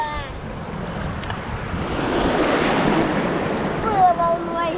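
Ocean waves breaking on an island shore, a loud broad surge that builds and washes in close, with wind buffeting and people's voices heard briefly at the start and end.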